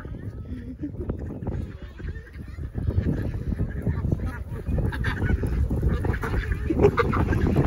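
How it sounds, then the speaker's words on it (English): Ducks and geese honking and quacking nearby while being fed bread outdoors, a steady clamour of calls throughout, with people talking over the birds. "Are you feeding the ducks?"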